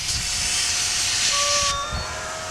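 Compressed air hisses steadily into an animal carcass through an injection point set well back from the meat, a broad close rush that runs unbroken for most of the clip before easing off, with a few thin tonal whines near the end.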